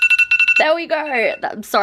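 A timer alarm rings in rapid repeated beeps, loud and close, cutting off as a person begins talking over the end of it.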